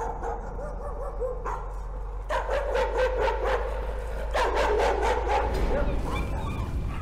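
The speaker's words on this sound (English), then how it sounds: "Oh, there's a dog." A dog barks repeatedly and whimpers in the horror video game Layers of Fear, a series of loud close yelps and barks over a low steady hum.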